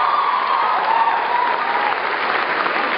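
An audience applauds at a concert, a steady, dense wash of clapping that holds at an even level from start to finish.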